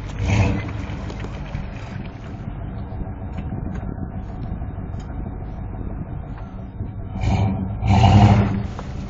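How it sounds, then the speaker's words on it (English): A Chevy K5 Blazer spins its tires on ice water, a continuous engine drone and churning roar that swells loudly near the start and again toward the end. "Chevy tire spinning"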